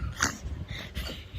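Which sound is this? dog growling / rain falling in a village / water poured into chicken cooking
dog growling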